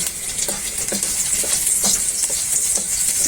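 Pork sautéing in a pan with onions and garlic for pork hamonado, a loud continuous sizzle broken by regular scraping stirs, close and steady throughout.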